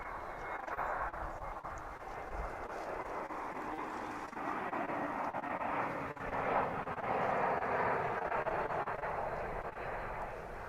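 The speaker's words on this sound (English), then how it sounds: "American Flight 2359 coming in now from Denver on Runway DFW" An American Airlines passenger jet arriving from Denver onto a DFW airport runway, a continuous broad roar held at moderate loudness and swelling slightly partway through, heard from a distance outdoors.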